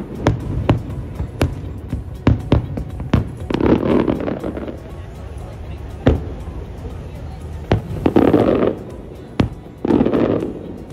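Harbour fireworks seen from a cruise ship go off as a string of sharp, loud bangs and crackles at irregular intervals, with people talking over them in places.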